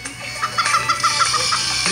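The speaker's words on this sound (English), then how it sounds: "I hear chicken sounds." A chicken in the video game Turbo Dismount clucks in a quick run of short, repeated clucks, fairly close, over a steady game background hum.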